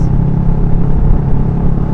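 A garbage truck rumbles past nearby, a loud, steady low drone throughout the short stretch without talk.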